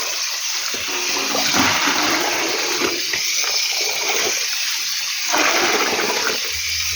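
Water running and splashing out of an overflowing basin, a steady rushing gush throughout with a louder surge near the end, close and loud with no talk.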